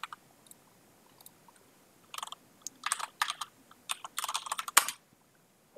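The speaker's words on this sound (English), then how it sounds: "Nice keyboard." Typing on a computer keyboard, sparse at first, then dense bursts of crisp close key clicks and clatter with short pauses between.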